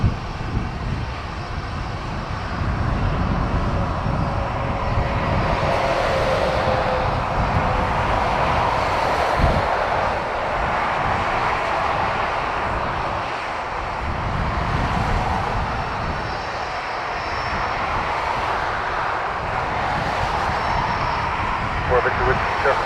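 A Delta Airbus A330 airliner at Dublin Airport produces a broad, steady engine roar that rumbles and swells for a long stretch. The noise is outdoors and continuous, and voices talk over it at times.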